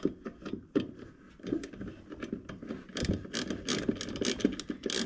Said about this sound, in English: This has been a ratcheting wrench because my socket barely fits in there.